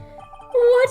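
A short cell phone ringtone in an Ace Attorney courtroom game: a few soft chiming notes, then a brighter, louder jingling melody near the end.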